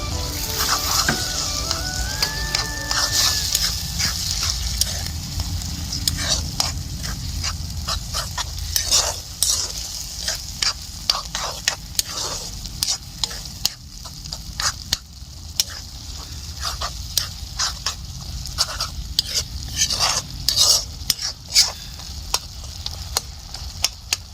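Eggplant sizzles steadily in a hot pan with fish oil, close up and fairly loud, while a utensil stirs with frequent short scraping clicks throughout, and no one speaks.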